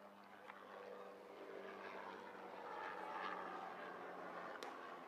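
A helicopter passing over a community college baseball field, its steady rotor and engine drone filling the air at moderate distance, swelling slightly midway and holding without any talk.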